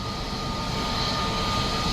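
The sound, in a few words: large airplane flying near Mumbai international airport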